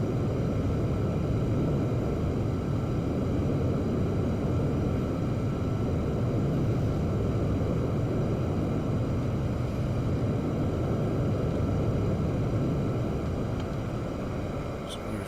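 Low-level flight of a jet aircraft in the DCS World combat flight simulator, a steady, loud engine roar with a dense low rumble that holds for the whole stretch, easing slightly at the end.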